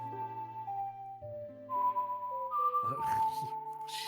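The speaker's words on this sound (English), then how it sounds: "she's like not good at whistling" A character in Zelda: Ocarina of Time whistles poorly, a string of wobbly sustained tones that step up and down in pitch, ending in breathy, sputtering bursts like blown raspberries.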